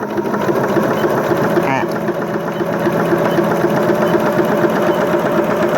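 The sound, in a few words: sewing machine sewing zigzag applique stitch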